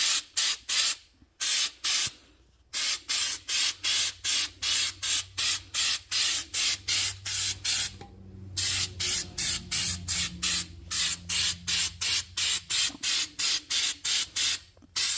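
Repeated short bursts of hissing clear aerosol spray paint, one after another in a steady rhythm, with a few longer pauses between groups.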